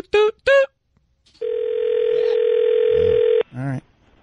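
A telephone call-in line on a radio show gives a single long, steady electronic ring tone lasting about two seconds, set between brief bursts of voices before and after.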